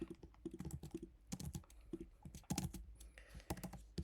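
Rapid, irregular clicks of fingers typing on a computer keyboard, close and quiet, coming in short bursts with brief pauses and no talking.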